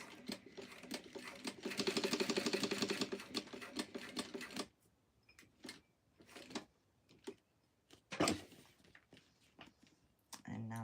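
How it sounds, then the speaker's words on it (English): A sewing machine runs a row of top stitching across a fabric napkin box cover, a steady rapid mechanical chatter for a few seconds that then breaks into scattered clicks and handling sounds. "let's start top stitching and going across."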